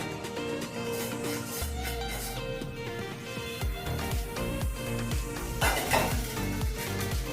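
Chopped ginger and mint being stirred into a pot of chicken haleem, with a spoon scraping and clanking against the metal pot in steady, close strokes and a low cooking rumble underneath.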